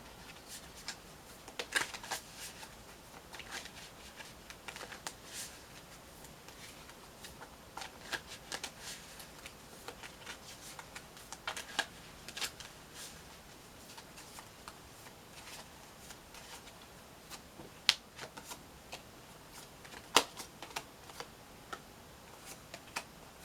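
Tarot cards are shuffled steadily by hand for a reading, a soft continuous riffling and sliding with occasional sharper snaps, close and quiet, with no talk.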